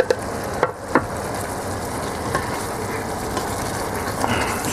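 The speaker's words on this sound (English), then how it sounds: "now we can add the first batch of meat again, also with all the meat juice that was on my cutting board" Meat and its juices from a cutting board tipped back into a hot Christmas goulash pot roast pot, giving a steady broadband sizzle with a few sharp clacks near the start, close and continuous without talk.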